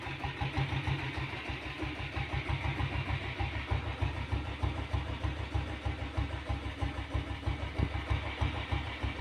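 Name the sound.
Royal Enfield diesel Bullet motorcycle engine running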